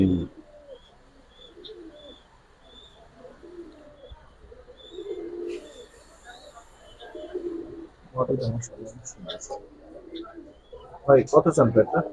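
Giribaz pigeons for sale coo softly nearby in low, rolling calls, with a few brief chirps mixed in, while someone talks over them in Bengali.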